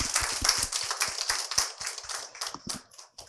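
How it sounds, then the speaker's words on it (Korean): Scattered claps from a small audience at a pet startup demo day, sparse and uneven rather than a full ovation, fairly faint, with a few sharp individual claps standing out. "큰 박수 부탁드리겠습니다"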